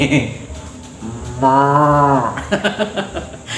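Between stretches of talking, a voice imitates a cow with a single low, drawn-out moo.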